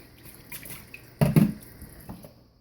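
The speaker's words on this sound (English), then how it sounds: "Wash that bowl out." A bowl is rinsed out with water, giving a brief sloshing splash in the middle that is framed by faint drips and small trickles, all heard close up in a quiet room.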